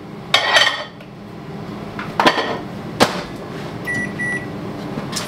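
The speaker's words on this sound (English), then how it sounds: "Lamb goes in the microwave." Kitchen clatter around a microwave oven as smoked lamb shoulder goes in to reheat: a door thuds open and shut, a few sharp knocks and clanks, then two short electronic beeps, all close and with no talking.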